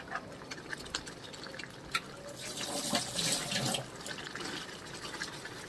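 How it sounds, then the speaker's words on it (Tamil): Water pours from a tap into chili powder in a kitchen for Tamil-style fish curry, a steady splashing stream that swells in the middle and eases off, with light drips. "கொஞ்சம் லைட்டாக இப்போ தண்ணி வச்சுக்கிறேன்."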